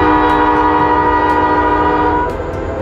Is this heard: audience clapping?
no